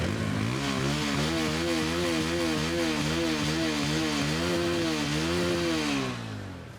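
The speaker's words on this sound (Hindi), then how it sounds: "पल्सर का चेक करते हैं एग्जॉस्ट नोट किस तरह से है।" Bajaj Pulsar P150 motorcycle engine running with its exhaust close by, a steady loud burble whose pitch wavers up and down with gentle revving before it eases off at the end.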